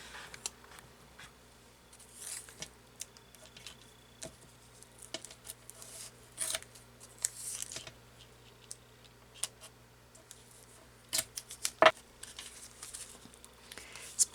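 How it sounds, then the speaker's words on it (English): Masking tape being torn and pressed down onto watercolor card: faint, scattered rips, crinkles and taps up close in a quiet room, with one sharper tear near the end. "So I'm just going to get this taped down."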